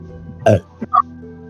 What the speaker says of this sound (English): That's a Pepsi burp right there.